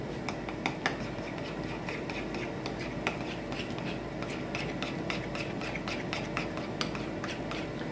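Mayo shrimp with pecans being stirred in a bowl, giving a steady run of soft wet mixing scrapes with small sharp utensil clicks against the bowl, fairly close, with no voices.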